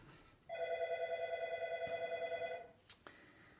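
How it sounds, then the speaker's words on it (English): A telephone rings with one sustained electronic trill lasting about two seconds, nearby and fairly quiet, followed by a brief click and a short second tone. "Phone's ringing, I'm not going to answer it."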